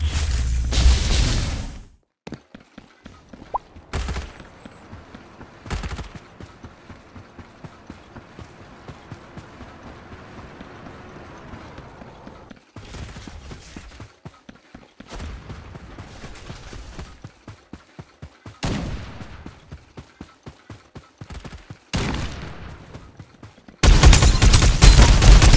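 Gunfire in the Farlight 84 shooter video game, with scattered bursts and single shots through a long stretch of quieter game ambience, and loud blasts near the start and end.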